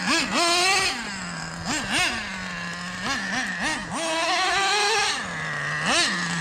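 A nitro RC car engine, a Traxxas Revo class basher on wet ground after rain, buzzes at idle and snaps into several short, sharp revving bursts, near and loud with no talk.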